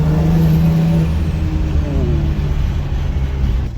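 BMW 1M with an aftermarket turbo setup under boost, its butterfly valve fluttering in a loud, steady chatter over the engine's drone from inside the car, with no traction on the road.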